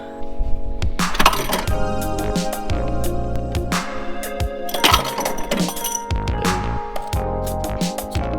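Nuts come off the steering coupler bolts of a 280ZX, a close, loud run of sharp metallic clinks, rattles and tool jangles with bursts of clatter, and no one speaking.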